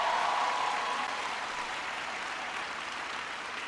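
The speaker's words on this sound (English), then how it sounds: "Can everybody please give Aubrey a big round of applause for the great introduction?" Audience applause fills a hall at a university event in Jamaica, a steady wash of clapping sustained for the whole stretch at moderate loudness, with no voices over it.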